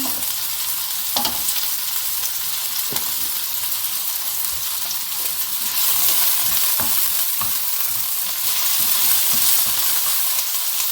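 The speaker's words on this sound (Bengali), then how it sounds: "তারপরে পেঁয়াজ, রসুন দিলাম" Onion and garlic fry in hot oil with a steady, dense sizzle that runs throughout, swelling slightly louder midway, with a few soft clicks of stirring and no voices.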